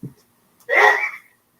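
One sharp, explosive sneeze bursts out close to the microphone during a sports talk show, following a brief soft breath and then fading into silence.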